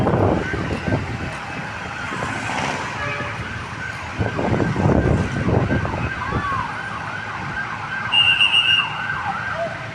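Fire truck sirens wail over a neighborhood blaze as firefighters arrive, a steady rising and falling whoop running throughout at middle distance, with a brief high electronic tone near the end and scattered voices talking beneath.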